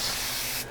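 A hand spray bottle mists freshly moistened peat moss potting media during the repotting of a Venus flytrap. The hiss is steady, close and loud, and it stops abruptly at the end.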